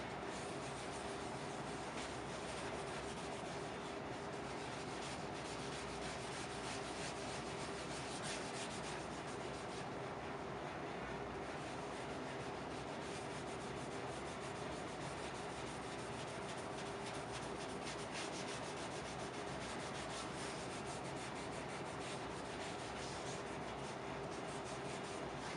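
A hand rubs dye into the maple burl body of a Telecaster-style guitar, giving a steady, soft, continuous rubbing and scuffing close to the ear with no pauses.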